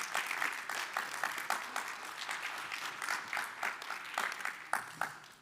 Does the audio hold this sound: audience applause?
yes